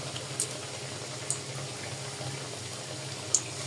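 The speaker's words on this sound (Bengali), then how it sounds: "চুলায় আমি কড়াইতে তেল দিয়ে দিছি, এখন বিসমিল্লাহ বলে ভাজা শুরু করবো" Coated chicken pieces go into hot oil in a wok (kadai) and start frying, giving a quiet, steady sizzle broken by a few sharp pops.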